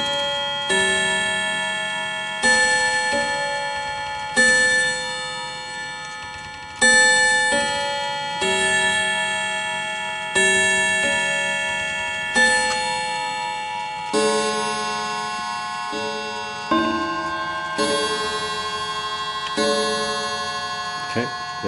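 An antique Davison Bros London clock striking four, a series of ringing chime phrases that sound repeatedly, each decaying before the next, loud and resonant.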